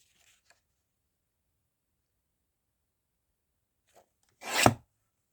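A paper guillotine cuts a narrow strip of card in one quick, close, crisp slicing stroke near the end, after a long near-silence with a couple of faint handling taps.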